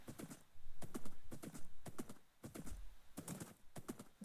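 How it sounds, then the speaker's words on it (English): A horse being ridden in the Minecraft video game clip-clops with a steady, fast rhythm of hoofbeats, loud and close, with no talking over it. "Now I just got to figure out how to ride the horse"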